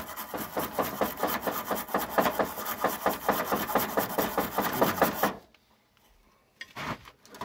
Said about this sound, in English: You gotta really scrub this thing good.